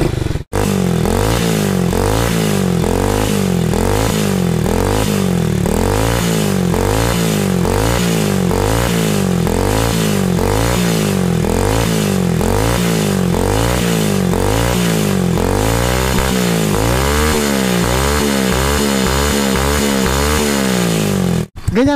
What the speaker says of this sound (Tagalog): Ganyan ang tunog ng merong silencer na Akrapovic.